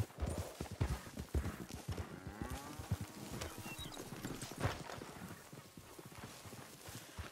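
Horse hooves clip-clop steadily on the ground in the video game Red Dead Redemption 2, close and fairly loud, with a brief whinny mixed into the galloping rhythm.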